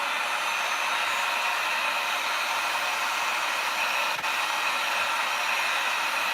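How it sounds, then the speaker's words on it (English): A hair dryer blows steadily on crumpled paper sunflower decorations, a constant close whooshing hum with no speech and only a faint momentary click partway through. "So to unscrunch them, that's what I use the hairdryer."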